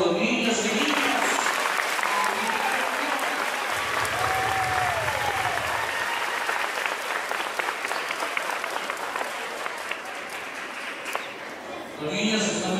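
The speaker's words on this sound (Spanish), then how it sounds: "Damos un aplauso a los niños y niñas." A congregation applauds the children at a First Communion, sustained clapping from many people that runs on and gradually thins, with voices talking beneath it.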